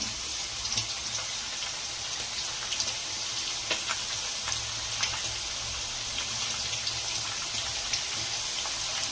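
Raw banana slices dropped into hot oil for crunchy chips, a steady, fairly quiet sizzle and bubbling that continues evenly throughout with faint crackles.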